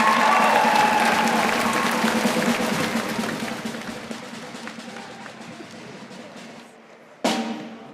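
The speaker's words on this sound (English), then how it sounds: "Let's give her a round of applause." A school event audience breaks into a round of applause that starts full and steadily thins out over several seconds, followed by a short final burst of clapping.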